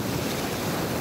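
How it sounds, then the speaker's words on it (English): Ocean waves on a Pacific coast beach, a continuous broad roar of surf mixed with heavy wind buffeting the microphone, loud and steady with no voices. "This is the beach behind me."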